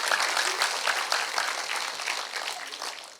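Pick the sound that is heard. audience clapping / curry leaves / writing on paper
audience clapping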